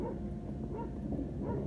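Several dogs bark and yip in a continuous muffled chorus, heard from a short distance with a low rumble of roadwork machinery underneath.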